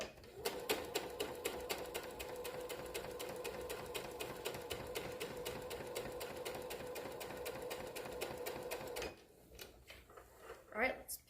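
A domestic sewing machine stitches fabric in a fast, steady mechanical rattle for about nine seconds, then stops, leaving faint handling noises.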